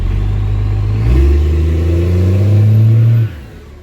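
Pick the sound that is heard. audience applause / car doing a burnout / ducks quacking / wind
car doing a burnout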